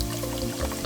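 Heavy whipping cream poured into a pot, a brief steady liquid stream with a smooth, continuous splashing pour.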